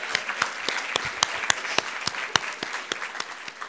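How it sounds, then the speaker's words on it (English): An audience at a Woman of the Year award ceremony applauds Steve Dobson, Molly's son: a modest crowd clapping, with distinct individual claps standing out over a softer spread of clapping. "Steve Dobson, Molly's son, everybody, give him a round of applause."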